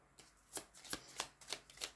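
Tarot cards shuffled and flicked during a reading, giving five or six crisp, close riffling snaps in an uneven rhythm, with no talk over them.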